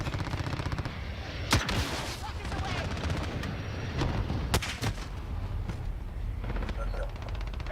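Gunfire in a video game as a player shoots down an enemy target, with bursts of shots over a steady loud battle din, including two sharp blasts, under continuous game noise.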